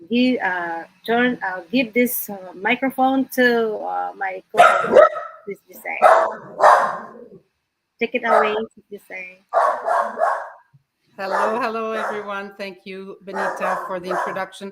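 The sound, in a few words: dog barking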